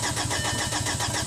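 Rebuilt VW TDI diesel engine cranking on the starter without catching, a loud rapid rhythmic chug of the turning engine, close and continuous, no voices.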